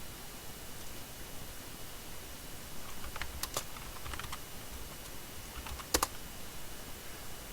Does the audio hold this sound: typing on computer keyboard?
yes